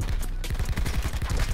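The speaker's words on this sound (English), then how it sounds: "the Peacekeeper is one of the best ARs in the game now" Peacekeeper assault rifle firing in Call of Duty, a loud, fast-cycling stream of closely spaced shots that carries on without pause for the whole burst.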